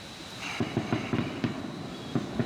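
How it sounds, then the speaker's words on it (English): Fireworks, locally called bombas, going off at a fair in Guatemala, heard as a rapid string of sharp cracking pops at moderate distance against steady background noise. "a couple fireworks here, or as they call them in Guatemala, bombas"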